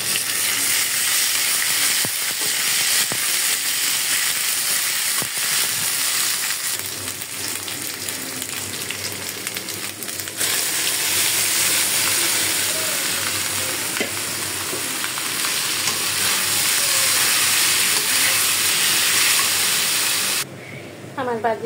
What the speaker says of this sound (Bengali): আমি কিন্তু আমার ভাজিটা তেলে দিয়ে দিচ্ছি, আর তার জন্য আমি এখানে দিয়ে দিচ্ছি আদা রসুন বাটা